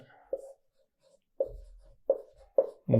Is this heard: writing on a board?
yes